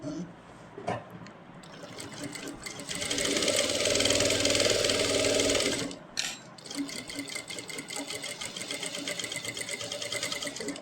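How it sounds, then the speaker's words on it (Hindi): A sewing machine stitches around a kurti neckline, starting with uneven bursts, then a loud sustained run of fast stitching before slowing into lighter intermittent whirring, heard close up without speech. "पहले हम एक सिलाई लगाएंगे नेक पर।"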